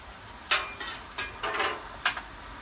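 Butter hits a hot Blackstone griddle while hibachi is cooked, giving short bright bursts of sizzle and scraping spatula strokes at an uneven pace over a steady background hiss, close up with no talking.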